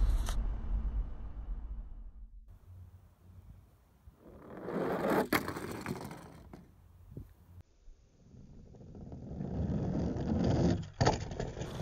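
Hot Wheels toy monster trucks rolling and clattering down a plastic track, with a couple of rumbling runs and sharp clicks, fairly quiet and without talk.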